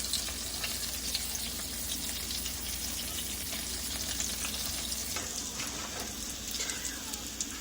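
Salmon patties fry in a pan with a steady, soft crackling sizzle that continues evenly throughout, with no one talking.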